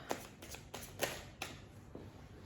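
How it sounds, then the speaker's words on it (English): Tarot cards being shuffled by hand, heard as a quick run of soft, papery riffling bursts at a steady rhythm, close and fairly quiet with no talking. "I'm gonna go ahead and shuffle some of the tarot cards."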